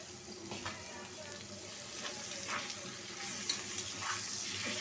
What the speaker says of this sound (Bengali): একটু তেল দিয়ে একটু ভাজা ভাজা করে নিব।